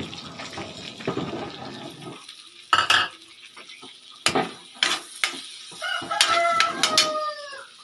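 Garlic is stirred and sautéed in a pan, giving a soft sizzle and scraping stir sounds, broken by sharper clinks of a utensil against the pan and a crowing rooster in the background.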